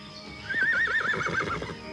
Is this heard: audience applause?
no